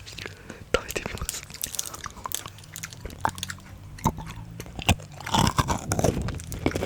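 Crisp bites and crunchy chewing of a chocolate snack, recorded very close to the microphone in a whispered ASMR session; sharp irregular crunches come one after another, with soft whispering between them.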